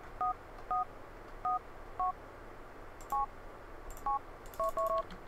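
Phone keypad button tones, a series of short electronic beeps at irregular intervals, a few grouped close together near the end, heard clearly over a quiet background hum.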